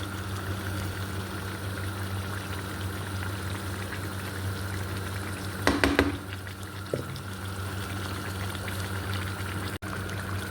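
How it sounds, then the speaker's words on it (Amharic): Chicken for biryani cooking in its own juices in a pot over lowered heat, a soft steady bubbling simmer with a couple of brief clinks midway, no talking. "አሁን እሳቱን ቀንሼ በደንብ አበስለዋለሁ።"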